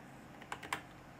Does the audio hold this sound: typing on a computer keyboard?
yes